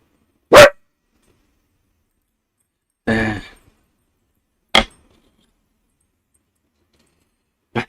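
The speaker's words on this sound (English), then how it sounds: "What you barking at? Ain't nothing out here." A dog barks outdoors in four sharp, isolated barks spaced a second or more apart, loud and close against near silence.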